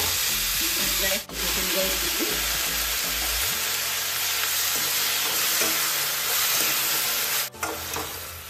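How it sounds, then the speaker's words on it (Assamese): Fenugreek seeds and leafy greens fry in hot oil with a loud, steady sizzle that lasts throughout, joined early on by the clatter of stirring in the pan. "অলপ মেথি গুটি দুটামান ফুটাই দি দিলোঁ, শাক এডাল দি দিছোঁ।"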